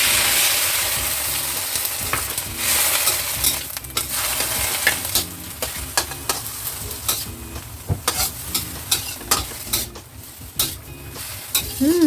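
Cabbage with dried-shrimp water stir-fries in a hot pan, giving a continuous sizzle broken by repeated scraping and tossing strokes from a utensil, close and fairly loud, with no talk.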